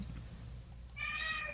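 A house cat gives a single short, faint meow near the end, after a quiet stretch of low room hum, with no one talking over it.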